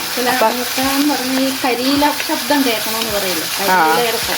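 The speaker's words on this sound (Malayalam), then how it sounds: "ഇങ്ങനെ തട്ടുമ്പോൾ ചീനച്ചട്ടിക്കകത്ത് ഇങ്ങനെ കിടന്നു അതിൽ ഒച്ച ഉണ്ടാക്കണം" Brinjal pickle ingredients sizzling in oil in a kadai while being stirred, a loud close frying hiss with repeated scraping and tapping of the spoon against the pan and a faint voice in the background.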